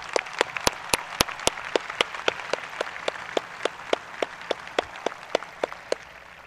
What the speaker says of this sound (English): Let's give a huge round of applause to all the teachers in the audience who helped us get here to